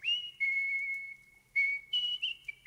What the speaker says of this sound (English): He sat in his palace and whistled his ruby whistle.